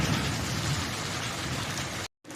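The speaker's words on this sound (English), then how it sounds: "as the rain destroys my video" Rain pours steadily outdoors during work on a 1975 Volkswagen Super Beetle, a dense, close hiss of drops on surfaces that cuts out briefly near the end and then resumes.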